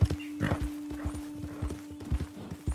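A horse in the Red Dead Redemption 2 video game: rhythmic clip-clop of hooves with a whinny woven in, close and steady, while a man murmurs softly to the animal.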